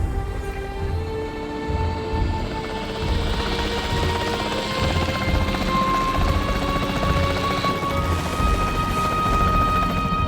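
A capture team helicopter from the Jurassic World Evolution video game drones steadily with a layered rotor and engine hum, loud and continuous throughout, with faint tonal game music threading underneath.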